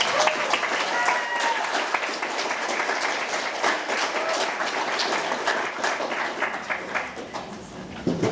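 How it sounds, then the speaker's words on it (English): Audience applause for a presenter at an art community event, sustained crowd clapping with scattered louder claps and faint voices mixed in, moderately distant. "Let's give Garrett one more round of applause."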